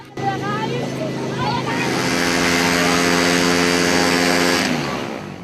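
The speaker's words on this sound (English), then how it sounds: "Nderitu revved up the engines and the plane finally started forward, gathering speed in its wake." Aircraft engines rev as a plane in Africa begins its takeoff roll. A loud, steady, droning roar with rising tonal harmonics holds for about five seconds, with brief voices at the start.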